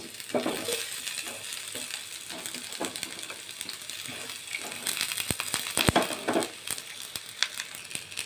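Two medium onions fry in white oil in a wok, with a continuous hissing sizzle and intermittent clicking and scraping as they are stirred. No one talks.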